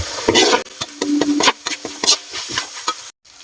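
Laing, taro leaves cooked in coconut milk, sizzles in its own released oil while a utensil stirs and scrapes the pan in repeated close strokes.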